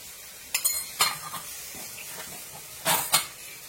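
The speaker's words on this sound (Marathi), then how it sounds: "चांगले परतून घ्यायचे आपल्याला ते मसाले." Spices, garam masala and turmeric, are stirred in oil in a pan for Maharashtrian chickpea usal, with a soft sizzle under sharp scrapes and clinks of a spoon against the pan in a few quick bursts.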